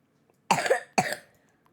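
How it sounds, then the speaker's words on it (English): Two sharp, close coughs in quick succession from one person, each a short harsh burst with a brief gap between, otherwise quiet around them. "You're coughing away."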